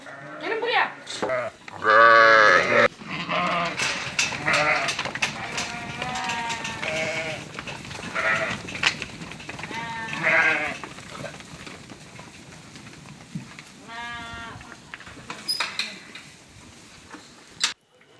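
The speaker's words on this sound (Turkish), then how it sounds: "gördüğünüz bu 200'e yakın koyun satılık arkadaşlar" Around two hundred Karacabey merino sheep bleat loudly and often, with many overlapping calls close by and a few distant ones in the quieter stretches.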